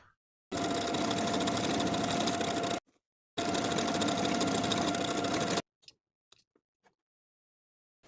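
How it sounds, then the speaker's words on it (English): A home sewing machine stitches buttonholes on a knit jumpsuit bodice in two steady, rapid runs of about two seconds each, close and clear, followed by a few faint clicks. "Then I'll sew my 2 buttonholes and open them up."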